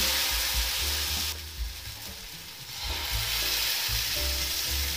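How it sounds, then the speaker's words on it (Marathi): Sorghum flour batter hits an oiled pan and sizzles loudly and steadily up close, the frying briefly dipping before swelling again, with no voices. "पॅनला तेल लावून घ्यायचे, धिरड्याचे बॅटर घ्यायचे आणि पॅन वरती असं टाकायचे"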